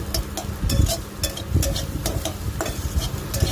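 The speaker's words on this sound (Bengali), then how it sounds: "তারপর ডিমটাকে আর পেঁয়াজটাকে ভালো করে মিশিয়ে ভাজতে থাকবেন।" Egg and onion fry in a pan under a low sizzle, with a spatula scraping and stirring in repeated strokes roughly every half second, close and clear with no talking.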